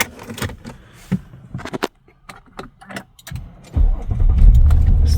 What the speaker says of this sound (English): Starts the car.